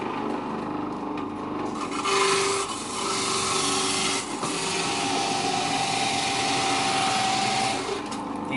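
A juicer machine running in a home kitchen, a steady grinding, rasping drone at moderate level throughout with no talking.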